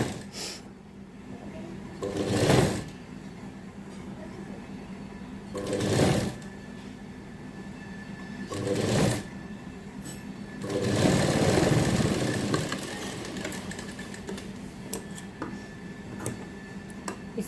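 A sewing machine stitches a curved strap for a baby frock in four short bursts of fast mechanical whirring, separated by quiet pauses, with the longest run near the end.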